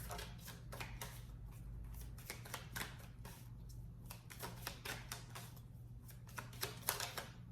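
Tarot cards from a double-sided deck are shuffled in a rapid, steady riffle of crisp papery flicks at close range, continuing throughout with a low hum underneath and no talking.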